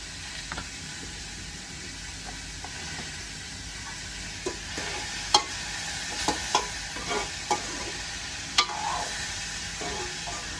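Oil heating in a cooking pan hisses with a steady, broad sizzle, with scattered sharp crackles and pops breaking through in the second half.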